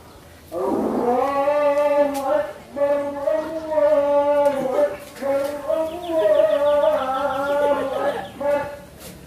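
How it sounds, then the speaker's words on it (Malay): A cow kept for sacrifice at Eid al-Adha in a village lows in long, loud, tonal calls, repeated several times close by, with faint background noise. "sapi kurban"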